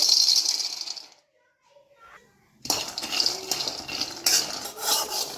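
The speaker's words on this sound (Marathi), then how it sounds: "सगळ्यात आधी आपल्याला कढाईत शेंगदाणे भाजून घ्यायचे" Peanuts roasting in a kadhai rattle and scrape as they are stirred. Close clattering bursts break off into a near-silent pause, then resume louder and busier.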